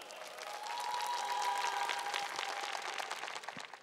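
An audience at the 2nd Organic Goesan Song Festival in Korea applauds as the grand prize is about to be announced, a steady wash of clapping that swells and stays even, heard from some distance.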